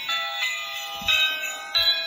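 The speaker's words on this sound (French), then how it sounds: "Vous avez la petite cloche de Noël." A little Christmas bell chime rings from a pressed toy's paw, three bright metallic jingles in quick succession, close and clear, each fading before the next.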